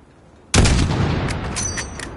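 A single sharp rifle shot in Call of Duty: Modern Warfare (2019), fired at a target 600 meters away, a sudden loud crack followed by a long rolling echo and faint trailing clicks.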